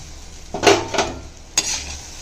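Grated coconut tossed in a pan with roasted fenugreek, urad dal and dried chillies: a few clattering scrapes and knocks of a spoon against the pan over a faint sizzle, close and brief.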